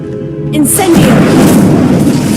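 An Incendio fire spell is cast in Hogwarts Legacy, a wizarding video game: a loud, close whooshing burst of flame flares up after a brief chime-like tone and keeps roaring.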